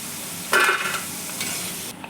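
Taro root (arbi) pieces frying in oil in a kitchen, a burst of sizzling and stirring that flares suddenly, then eases into a softer, steady crackle close by.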